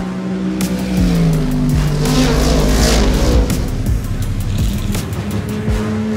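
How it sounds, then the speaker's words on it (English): GT race cars on Mount Panorama circuit at the start of a 60-minute race, engines roaring loudly as they climb Mountain Straight on Pirelli tyres, with shifting engine notes, overlapping cars and brief tyre noise. "Grove who sweeps across to take the lead as everybody tries to get these Pirelli tyres up to temperature and work their way up mountain straight for the first lap here of this 60-minute race"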